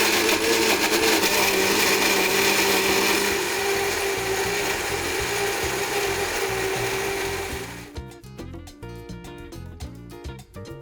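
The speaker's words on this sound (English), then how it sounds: "So let's grind our gustaba." A kitchen grinder whirs loudly and steadily while grinding spiced meat for gustaba, running for several seconds before spinning down into uneven rattling pulses as it slows to a stop.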